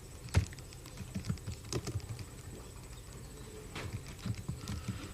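Soft typing on a computer keyboard, scattered keystrokes in short irregular clusters against a constant low background hum, no voices.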